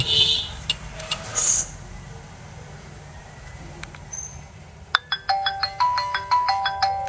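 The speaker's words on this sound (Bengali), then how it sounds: "চলুন দেখা যাক ফোনটির ভলিউম, রিংটোনের পাওয়ার কত ছিল।" A Vmax V54 mobile phone ringtone starts partway through, playing a bright repeating electronic melody in quick rhythmic notes, close and clear after some faint background noise.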